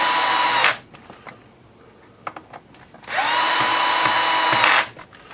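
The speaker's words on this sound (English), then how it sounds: "You can hear the clutch firing off on the screw drill there." A power screwdriver on an Axial Yeti model build runs in two loud whirring bursts that stop abruptly. Between them come small clicks and taps, and the clutch slips on the screw near the end of the second burst.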